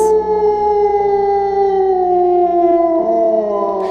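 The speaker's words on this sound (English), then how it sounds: "they are howling into the stars" Animals howl in a loud, sustained, drawn-out chorus, steady and close, the pitch sliding slowly downward with a brief shift near the end and no other sounds around it.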